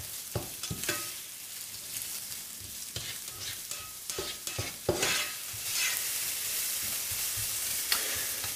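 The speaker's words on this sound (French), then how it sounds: "Il faut faire cuire les oignons et la ciboule, vous savez, jusqu'au moment où les oignons commencent à devenir un peu translucides." Onions and scallions frying in a pan for Korean japchae noodles, a steady sizzle with scraping stirs of a utensil against the pan, close and continuous, no talking.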